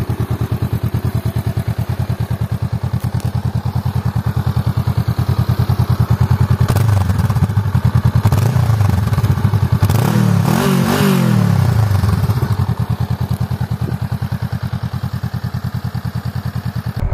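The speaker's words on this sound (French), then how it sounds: "Bon, on va quand même écouter la sonorité du bicylindre." A Honda Rebel 500 twin-cylinder motorcycle engine starts and runs loud and close, settling into a steady throbbing idle with several sharp revs in the middle before dropping back to idle.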